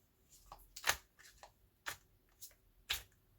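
Tarot cards are shuffled by hand in a quiet room, giving a string of sharp, separate riffle and slap bursts at uneven intervals, close and clear with no talking.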